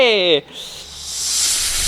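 A snake gives a steady, breathy hiss lasting over a second, close and fairly loud, right after a brief voiced exclamation.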